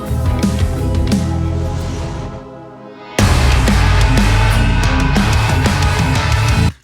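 Full-band metal recording, dense and loud, drops briefly near the midpoint, then slams back in with heavy drums and distorted guitars at a slightly faster tempo, running steadily until cutting off.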